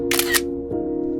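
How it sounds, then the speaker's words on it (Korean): A mobile phone camera shutter fires once, a short bright click-swish burst over a steady low hum, followed by a faint soft tick. "윤희는 무의식 중에 핸드폰을 꺼내 셔터를 눌렀습니다"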